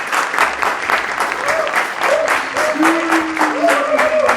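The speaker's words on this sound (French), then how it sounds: "Plus d'applaudissements pour Loïc," Studio audience applause for a contestant on the French TV show Cash or Love, continuous dense clapping with rhythmic rises and faint vocal tones over it.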